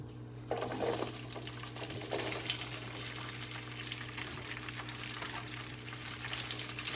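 Cut forest bitter gourd pieces frying in a pan, a continuous close sizzle and hiss that starts abruptly, with a steady low hum underneath and occasional stirring scrapes, no speech.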